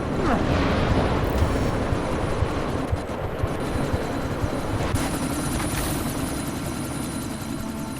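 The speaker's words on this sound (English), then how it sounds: "you need to disable that chopper" A helicopter in the video game Deus Ex: Mankind Divided drones loudly and steadily with a thick rotor roar, close and constant throughout, with faint game effects layered over it.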